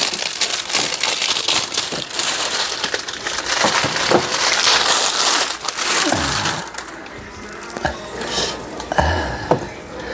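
Plastic packaging of a Kenmaster B 380 toolbox being opened, with loud crinkling, crackling and rustling of plastic, brief knocks near the end, close up and with no talk.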